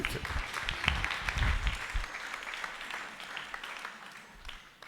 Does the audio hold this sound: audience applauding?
yes